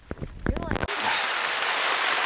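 Rain drums steadily on a tent at a Pacific Crest Trail camp, a dense, even hiss that fills the space right after a brief moment of voice at the start.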